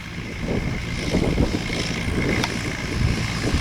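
A vintage Nuffield tractor engine runs steadily while pulling chain harrows across a field, a continuous low rumble heard up close with some wind buffeting the microphone.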